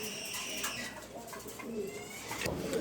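Domestic pigeons coo softly in repeated low, throaty calls, with a bit of rustling and faint background noise throughout.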